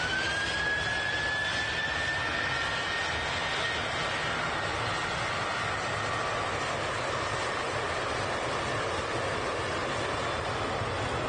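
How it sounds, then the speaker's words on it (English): A Boeing 737-900 jet departing Amsterdam, a steady, far-off jet engine roar with a faint rising whine, sustained and even throughout with no voices. "900 variant of the 737 about to depart Amsterdam"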